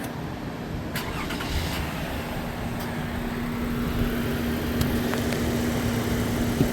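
A car engine cranks and starts during a diagnostic test, then settles into a steady, even idle hum that grows slightly louder toward the end, with no talking.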